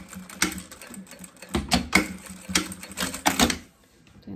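A sewing machine runs in short bursts, stitching back and forth on fabric, each run a rapid mechanical clatter separated by brief pauses, close and fairly loud.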